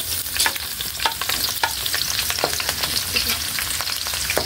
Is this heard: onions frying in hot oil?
yes